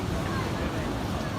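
Storm waves break against a break wall, a continuous loud roar of surf and spray mixed with heavy wind buffeting the microphone, close and unbroken throughout.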